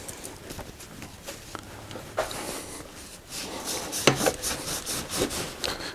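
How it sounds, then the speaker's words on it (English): Quiet, close scrubbing and rubbing strokes as the rusty pedal wrench flats on a Trek 4500 mountain bike are polished, with light scraping taps in an irregular rhythm. "I'm even polishing the flats for the pedals for the wrench."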